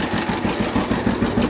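An old John Deere G tractor engine runs on its own, a steady low, rough putter with a rapid even pulse, loud and close, with no voices.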